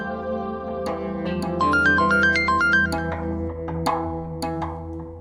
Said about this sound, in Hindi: अननोन नंबर से कॉल आ रही है।